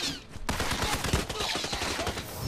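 Rapid bursts of gunfire from the video game Hitman, a dense volley of shots starting abruptly after a brief quiet moment and continuing steadily, loud and close throughout.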